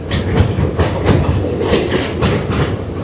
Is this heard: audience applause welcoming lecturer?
no